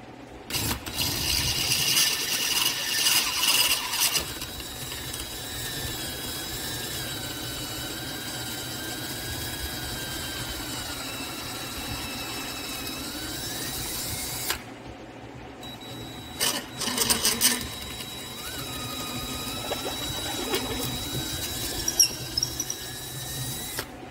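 A power drill with a larger bit bores through the housing of a DIY Ghostbusters siren prop, whining steadily for long stretches with a short pause midway, close and fairly loud, no talk.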